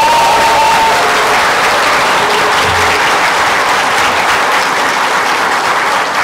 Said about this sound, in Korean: 여러분 모두 함께 이 모든 분들께 감사 박수 한번 보내주십시오.